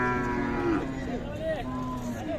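Khillar cattle lowing repeatedly, several long moos overlapping against a steady background hum of a busy outdoor cattle market in Sangola, Maharashtra, fairly close and loud.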